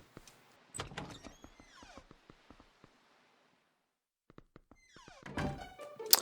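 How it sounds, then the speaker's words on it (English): A door opens in the video game The Legend of Zelda: The Wind Waker HD, a series of clicks and mechanical thunks with a rising slide, a quiet pause, then another burst of rumbling and chiming game effects. "Going on in here, and open the door."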